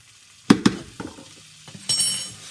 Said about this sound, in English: And you stir that down to make like a paste.